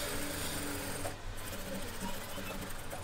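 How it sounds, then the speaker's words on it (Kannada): An electric sewing machine runs steadily, stitching a lined blouse, with a dense continuous whirring hum and rapid needle clatter that pauses briefly around the one-second mark before resuming, close and fairly loud. "ನೀಟಾಗಿ ಹಿಂಗೆ ಸ್ಟಿಚ್ಚನ್ನು ಹಾಕ್ಕೊಂಡ್ಬಿಡ್ತೀನಿ"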